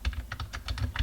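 Rapid, uneven keystrokes on a computer keyboard, close and fairly quiet, with a steady low hum beneath and no voices.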